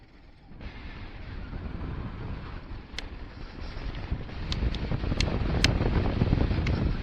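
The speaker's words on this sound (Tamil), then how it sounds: "காற்று பாட்டு உஸ்ஸு உஸ்ஸுன்னு அடிக்குதானா, சரியான காத்தடி, சில்லுன்னு இருக்கு." Strong, cold wind buffets the microphone on the Umling La mountain pass in Ladakh, a rough low roar that swells and grows louder, broken by a few sharp clicks and knocks.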